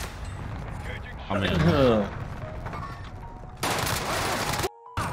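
Gunfire in Warzone Rebirth Island, a battle royale video game: a brief burst of shots, then a loud crashing volley cut by a short gap, with voices talking over it.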